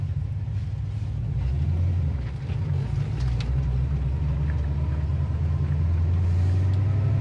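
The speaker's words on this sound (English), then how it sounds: "That engine just runs really smooth and quiet" A 1961 Chevrolet Bel Air with a 4-speed gearbox idling, a steady, smooth low engine rumble held at an even level throughout with no voices.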